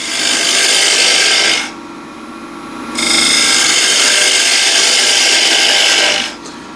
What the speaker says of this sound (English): So again, bowl gouge.